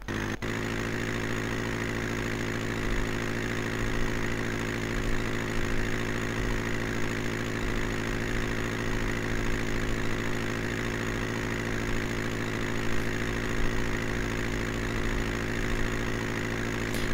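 A boat motor in the Willy Werkel ship-building game runs with a steady, droning idle hum that holds unchanged throughout, with no talking.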